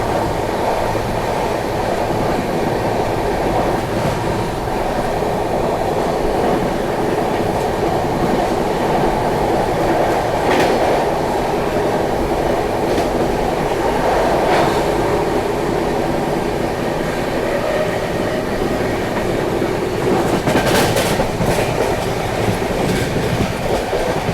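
Vikramshila Express running at high speed near 130 km/h just out of Ghaziabad, heard from inside: a loud, steady rail roar with rhythmic clickety-clack of wheels over joints and brief squeal bursts throughout.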